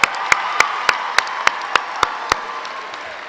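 At a 2015 high school graduation ceremony, sharp, evenly spaced claps ring out in a steady beat over a soft crowd murmur, close and crisp, lasting a few seconds.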